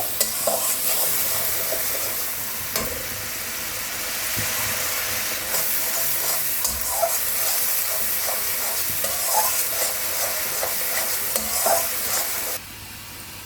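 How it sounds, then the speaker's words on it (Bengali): Steady hissing sizzle of onion frying in a hot pan, with occasional stirring scrapes, continuous and close, no voices. "পেঁয়াজটা ভালো করে ভাজবো।"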